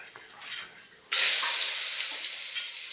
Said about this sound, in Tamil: உளுந்த பருப்பு போடுறேன் எடுத்து வச்சா உளுந்த பருப்பு போடுறேன்